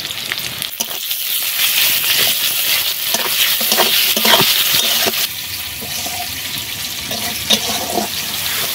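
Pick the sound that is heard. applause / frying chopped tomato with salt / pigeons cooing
frying chopped tomato with salt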